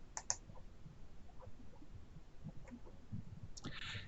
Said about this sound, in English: And then click save.